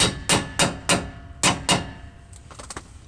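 A hammer taps a bolt into the lower rear strut of a 2006–2014 vehicle, giving six sharp, evenly spaced metallic knocks, followed by softer, quicker taps.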